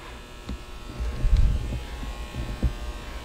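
A Quincy QSVB 25 HP industrial vacuum pump with 5,173 hours runs steadily, giving a low rumbling hum with a buzzing edge and a few soft knocks. It is heard close and alone.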